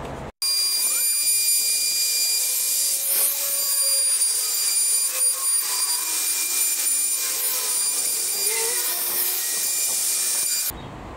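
A power tool cuts a rebate along hardwood boards as a loud, continuous high whine that rubs and rasps steadily for about ten seconds, then stops abruptly, with no talking.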